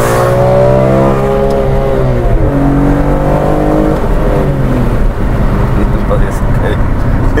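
A BMW M3 engine revs loudly and close, with harmonic tones rising and falling across the revs. The sound is continuous and steady in level, and voices are also present.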